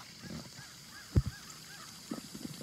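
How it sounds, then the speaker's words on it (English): Outdoor waterfowl honking, two or three short loud calls close by followed by fainter quieter ones, with no voices. "We also found some ducks on our way to breakfast."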